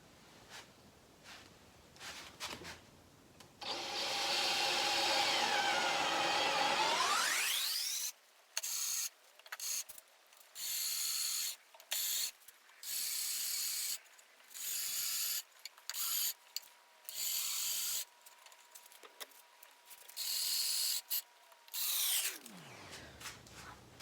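A power drill turning a 20 millimeter Forstner bit into wood for a sofa table, a whine that builds and then comes in steady, repeated short bursts of cutting separated by brief stops, close and fairly loud.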